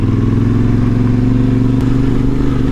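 A motorcycle engine drones loud and close at a steady pitch while riding toward the forested slopes of Pelister near Bitola, with no rise or fall in revs.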